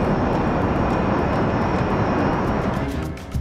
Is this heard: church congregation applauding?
no